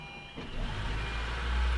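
A Honda Fit's engine cranks and catches within about a second, rising into a low, steady idle rumble, fairly quiet and close.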